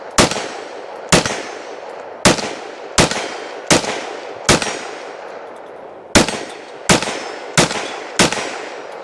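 Sharp, loud gunshots from a Smith & Wesson M&P .22 Magnum pistol at a shooting range, about ten shots in an uneven series, some closely paired, each followed by a short ringing decay.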